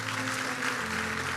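A congregation at a church service claps steadily, a dense even patter of applause that stays level throughout.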